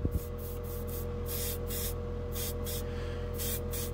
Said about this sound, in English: They make the bright white base in the spray can.